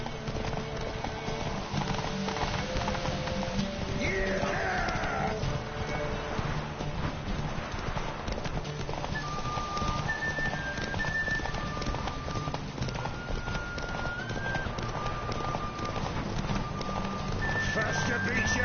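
Roach, the horse in the game Witcher 3, galloping: a steady, rapid drum of hoofbeats runs throughout under a voice talking.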